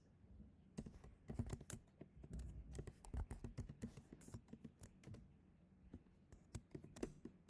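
Fast, uneven computer keyboard typing during a coding session for a task management app, with bursts of close key clicks and short pauses, no voices.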